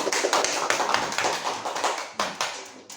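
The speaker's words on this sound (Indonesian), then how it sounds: "Tepuk tangannya mana?" A school class applauding in an Islamic religious studies lesson, dense, close clapping from many students that thins into a few scattered final claps.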